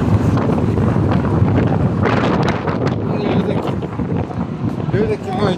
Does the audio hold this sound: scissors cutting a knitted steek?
no